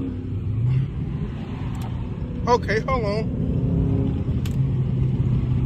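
A Dodge Hellcat or Scat Pack with stock exhaust rumbles steadily at idle or low speed in night traffic, a continuous low drone under nearby talking.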